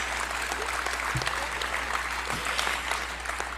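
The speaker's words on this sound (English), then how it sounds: "Clap for that." Congregation applause at a report on a General Assembly, a steady, even patter of many hands clapping at moderate level over a low hum, with no speech.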